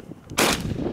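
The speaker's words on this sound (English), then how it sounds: "No distinct hit on the second shot." A shotgun shot at an informal trap shoot on a field with a hand thrower, one loud sharp blast whose report rings and fades through the rest of the second.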